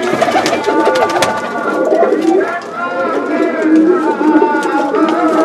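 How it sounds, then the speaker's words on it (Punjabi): Malwai pigeons coo nearby in repeated throaty, rolling calls that overlap one another, with voices talking in the background. "ਮਲਵਈ ਕਬੂਤਰ ਪਿਓਰ"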